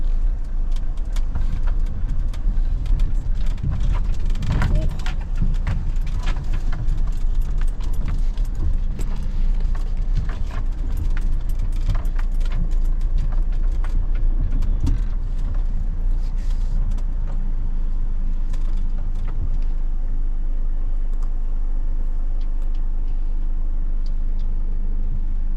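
Campervan rolls down a bumpy grass farm track on the Isle of Bute, a loud, steady engine drone inside the cabin with constant rattling and jangling of loose items shaken by the rough ground.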